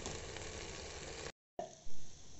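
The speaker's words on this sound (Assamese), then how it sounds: "চাউলখিনি মই এতিয়া 10-15 মিনিটমান ভাজি লওঁ" Rice frying in a pan for pulao hisses with a steady, soft sizzle that breaks off briefly, then resumes with a stirring scrape.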